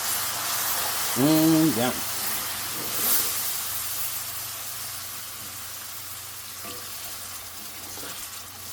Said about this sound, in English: And now I'm going to start adding the broth. Adding the beef broth.